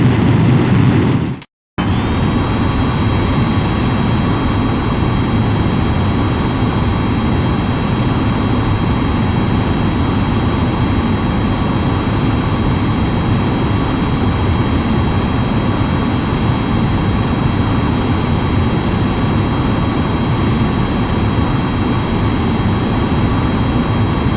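Jet aircraft engines in Ace Combat X: Skies of Deception on PSP roar as a loud, constant broadband rush with a thin steady whine on top, broken only by a brief cut near the start.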